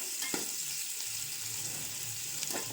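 Onions frying in well-heated ghee for an aloo chicken curry give a steady, even sizzle that runs without a break at moderate volume, with a couple of faint clinks near the start and end.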